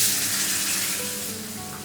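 A cup of water poured into a pan of sizzling potato and pepper curry spiced with coriander and cumin, a loud hissing sizzle that slowly fades as the liquid settles.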